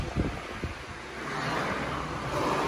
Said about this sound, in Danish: Se hvordan det blåser, og så er det regn i luften.